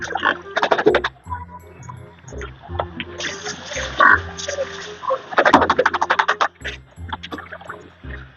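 Close, repeated low grunts and snorts from a pig, coming in irregular bursts over a noisy background.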